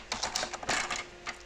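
Cardstock cut to size for a handmade greeting card, a brief run of quick crisp clicks and scrapes from the cutting, close and moderately loud with no voice.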